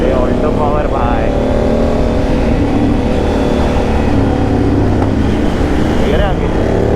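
A Maruti Alto car engine accelerates on a road, a loud, continuous engine drone with road and wind noise, while people talk over it throughout.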